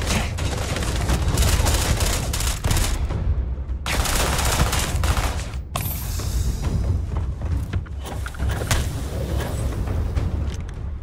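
Sustained gunfire and blasts during a Starfield space-combat fight, dense and loud throughout with rapid bursts and booms, briefly broken by short gaps near the middle.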